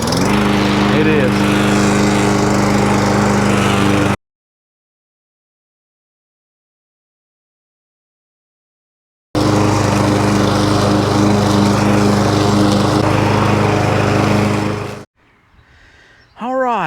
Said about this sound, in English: we are going to attempt to get some mowing done on this riding mower